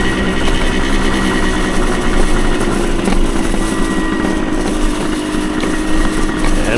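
A 1975 Suzuki TS125 Duster two-stroke motorcycle engine runs steadily with a loud, raspy, buzzing drone, heard close up over rushing wind as the bike rides along.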